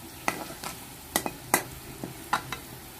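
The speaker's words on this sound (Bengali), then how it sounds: "এই যে হলুদটা একটু ভেজে নিচ্ছি" Turmeric spice paste frying on low heat in a pan, with a soft sizzle under several sharp scrapes and clinks of a spoon stirring, spaced irregularly and close by.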